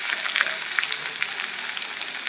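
Crushed garlic frying in a pan, a close, bright and continuous sizzle with small popping crackles throughout and no talking.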